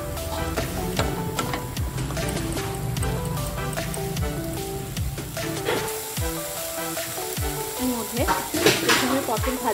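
Ground spices for a pointed gourd (potol) curry fry with a splash of water in a pan, sizzling softly while a spoon scrapes and clatters against the metal in repeated stirring strokes.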